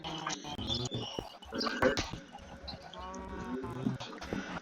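Minecraft sheep bleat a few times among other game sounds, with short nasal calls at moderate volume and some clicking and movement noise around them.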